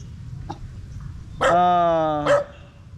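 A single long, drawn-out dog bark or howl rings out clearly, preceded by faint small sounds and ending with a short sharp yelp.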